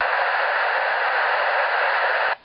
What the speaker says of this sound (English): So basically keep your scanner's squelch, make it hiss